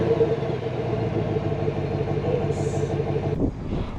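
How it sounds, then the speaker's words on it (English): A 2025 Chevy Silverado truck engine idles after a cold start, a steady loud low rumble with a fast pulsing beat that cuts off abruptly near the end, followed by quieter background. "we're gonna do a quick little cold start"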